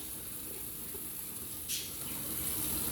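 Water runs steadily from a tap into a container, a constant close hiss with a brief splashier surge partway through.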